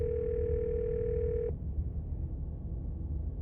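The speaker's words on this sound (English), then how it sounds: "You can hear something drop violently on the other end of the dial tone." A steady telephone dial tone in a video game hums for about a second and a half, then cuts off abruptly, leaving a low rumbling background.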